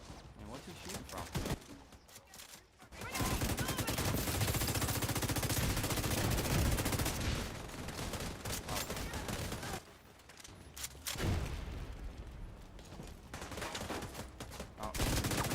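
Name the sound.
gunfire from a shooter in the video game The Division 2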